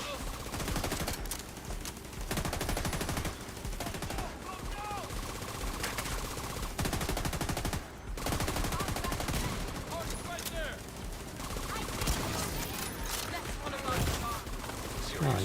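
Sustained gunfire from a The Division 2 firefight, rapid automatic bursts and overlapping shots close and loud, with a player talking over the constant shooting.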